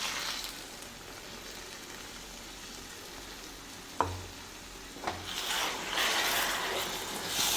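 A ground paste of cashew, coconut and pepper hits hot oil with garlic chicken in a pan, giving a soft steady sizzle with a couple of sharp clanks of a spoon, then louder frying and stirring toward the end.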